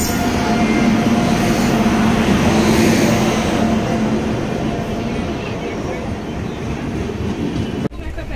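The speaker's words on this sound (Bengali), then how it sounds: "ওয়্যাপ 7 দা পাওয়ারফুল লোকোমোটিভ" A WAP-7 electric locomotive hauls the Poorva Express past, producing a loud, steady rumble and clatter of wheels on rails that slowly eases off, with a sharp knock near the end.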